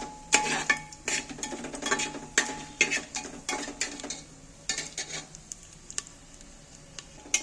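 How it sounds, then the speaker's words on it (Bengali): Spices are stirred in a small amount of oil for a one-pot chicken dish, with a spoon scraping and clinking against the pan in irregular strokes over a quiet, continuous sizzle, heard close up. "এইবার আমি মশলাটাকে একটু নাড়াচাড়া করে তেলটার মধ্যে"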